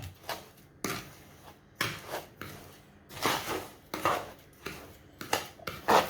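Homemade canary breeding paste with grated coconut being stirred in a container: a series of dry scraping, rustling strokes at an irregular rhythm, close and fairly quiet, with no talking.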